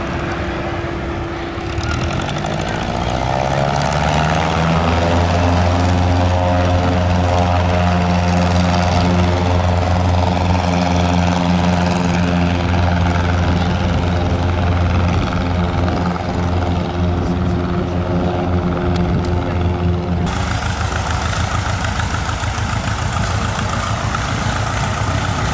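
A Lake amphibious propeller aircraft makes a low pass, its loud, steady engine drone with strong harmonic tones holding close for about twenty seconds before the pitch drops abruptly as it passes and moves off.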